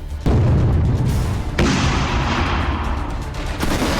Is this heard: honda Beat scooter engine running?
no